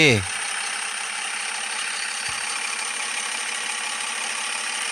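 A first-generation Isuzu D-Max diesel pickup engine in the game Draw Bricks idles with a low, even drone that continues throughout after a brief starting burst.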